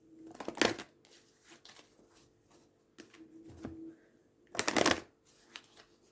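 Astrology reading cards being shuffled close up, with a quick riffle at the start, softer card handling in between, and a louder, longer shuffling burst near the end.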